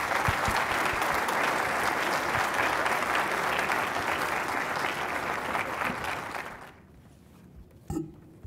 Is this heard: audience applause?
yes